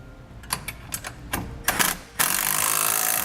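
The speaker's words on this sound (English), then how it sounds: "I'm using a 7/16 socket and a wrench." Bolts on a side-step mount for a 1994 truck being tightened with a 7/16 socket ratchet and wrench, giving a series of quick close clicking bursts that build into a steady loud mechanical rattle.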